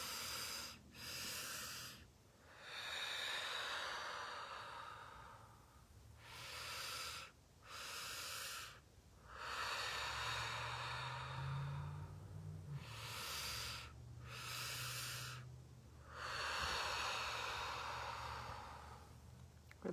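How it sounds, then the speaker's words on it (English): Slow, deep breathing during a breathwork practice: long airy inhales and exhales, close and breathy, repeating in cycles of a few seconds with brief quiet pauses between breaths. "Couple more rounds of this breath."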